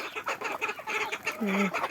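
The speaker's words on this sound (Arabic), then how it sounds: "شوف تبارك الله يما شحال عندها الجداد" Several chickens cluck softly in the morning at a rural home near Ouazzane, Morocco, with short repeated calls mixed with faint background voices.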